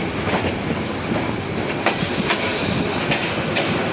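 The Porjotok Express bound for Cox's Bazar rolls into Biman Bandar station with a loud, steady roar, sharp rail clicks and a brief faint wheel squeal. No one speaks.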